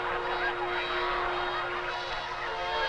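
Captured geese honk in a steady, close chorus of overlapping nasal calls over a constant background hum, with no talking.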